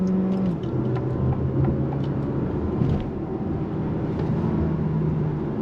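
A 2024 Alfa Romeo Tonale SUV pulls on throttle with a continuous engine drone and road rumble, heard from inside the cabin at a steady loud level.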